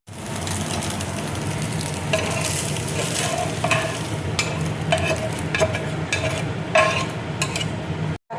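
Fried egg being stirred into flattened rice (chiwda) in a pan, a steady sizzle of frying with scraping stir strokes and occasional light clinks of a utensil against the pan, continuous and close for the whole stretch.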